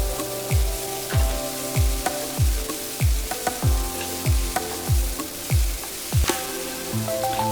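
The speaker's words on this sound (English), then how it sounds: "Then add 2 cups cabbage chopped and fry this until it is nice and soft" Chopped cabbage frying in a pan for street-style chicken fried rice, a steady sizzle punctuated by regular, rhythmic thumps of a spatula tossing and stirring, close and moderately loud.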